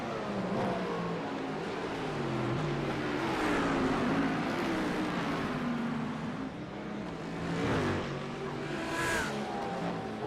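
Race cars at Watkins Glen in a racing game, engines revving and whining through corners with shifting pitch and passing drone, loud and continuous.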